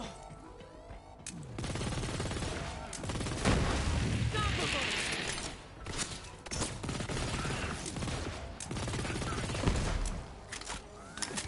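Needle gun firing in a looter-shooter video game, rapid bursts of gunfire layered with explosions and chaotic combat noise, dense and loud across the clip.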